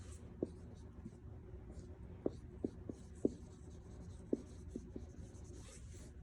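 A pen writes names of construction drawings by hand on paper, a faint scratching broken by several sharp taps and strokes at uneven intervals, recorded quietly and close.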